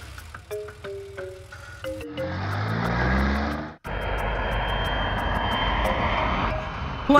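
A steady airplane engine drone swells to a loud roar and then dies away abruptly. It returns as a continuous rumble that holds until the end.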